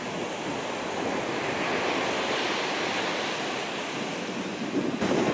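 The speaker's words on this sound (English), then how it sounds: "Listen to the wind blow." Wind blowing along the Jersey Bayshore near Sandy Hook, a steady broad roar of gusts and surf-like wash, constant and fairly close, with a slight buffeting surge near the end.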